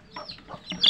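A hen clucks in a few short bursts, close by, ending in a sharper, louder squawk.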